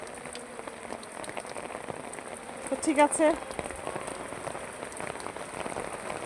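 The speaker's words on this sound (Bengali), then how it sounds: "সবাই বৃষ্টি দেখতে থাকেন আমার ভিডিওর মাধ্যমে" Steady rain falls on a rooftop in a village, a continuous hiss of drops throughout, with a person speaking briefly in the middle.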